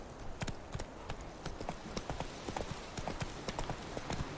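Horse hooves clip-clop at a steady trotting rhythm while riding along a path in The Witcher 3, close and moderately loud, with no talk over them.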